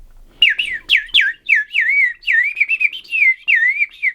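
A 3D-printed whistle with water inside is blown in a run of loud, close, warbling shrill tones, a few sharp bursts first and then rapid wavering peeps.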